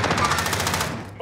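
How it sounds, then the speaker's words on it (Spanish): Rapid automatic gunfire from the video game Call of Duty: Modern Warfare, a loud, continuous burst of closely spaced shots lasting about a second before cutting off. "¿Y esos tiros de dónde serán?"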